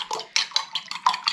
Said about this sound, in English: And then whisk that until they're nicely